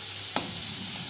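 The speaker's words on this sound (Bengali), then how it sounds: "চিংড়ি মাছটা একটু ভেজে নিতে হবে" Shrimp sizzle in a hot pan with a steady close hiss, broken once by a short sharp scrape or stir.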